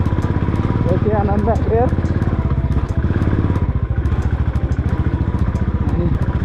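A motorbike rides along a road toward Lakeside from Methlang, its steady engine drone running continuously close by while someone talks over it.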